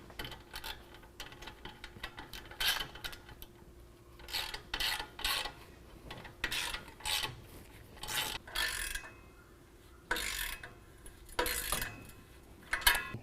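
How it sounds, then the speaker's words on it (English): A 3/8 socket tightens a polished exhaust tip on a Flowmaster Force II side-exit system, giving irregular metallic rasping and clinking bursts throughout with short pauses between turns. "Now we're going to use a 3/8 socket to tighten down our polished tip."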